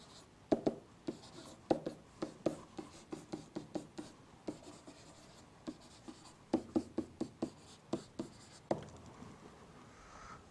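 A pen writes a note on a graph, with quick bursts of scratchy strokes and taps coming in clusters and short pauses, close and fairly quiet.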